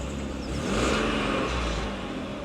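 A Volvo six-cylinder 2.5 litre engine revs up in a smooth swell and eases back to a muffled hum, heard close and alone.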